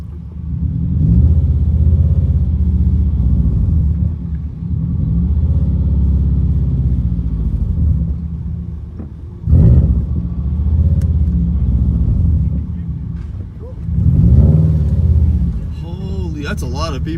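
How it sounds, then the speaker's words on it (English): A cold car engine runs with a loud, low rumble nearby at a car meet, swelling in a few surges as it revs, with some speech faintly underneath. "Engine is still cold."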